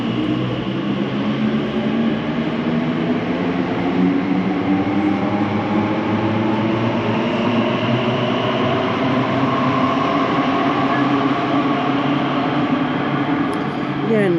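An Elizabeth line train pulls out of London Paddington station, its motor tone rising steadily in pitch as it gathers speed, loud and continuous under a station hum.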